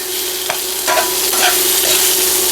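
Tender bok choy is stirred and warmed in a hot pan that already holds meat juices, producing a loud, continuous sizzle with a few soft scraping strokes from the stirring.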